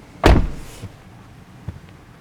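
A Mercedes-Benz GLC 300 4MATIC power rear liftgate shuts with a single sharp thud, followed by a softer latch click and a faint final knock in an otherwise quiet space.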